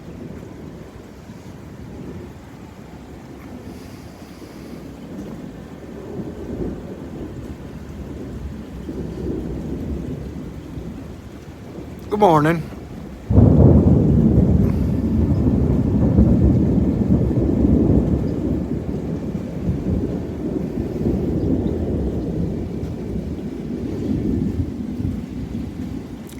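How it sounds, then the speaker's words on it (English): Rain falls steadily through a Houston thunderstorm, then a loud crack of nearby thunder breaks into a long, heavy rumble that rolls on for many seconds; a voice briefly says a greeting. "But I'm satisfied with this thunder."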